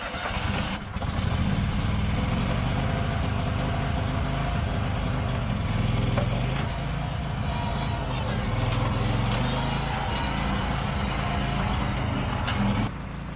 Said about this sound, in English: So let me get the tractor going and get off and get over and get to work,